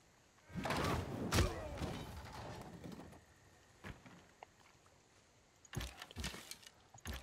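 Civilization VI city bombard strikes land as a few loud thuds and booms, a big impact near the start and another burst toward the end, with quieter gaps between.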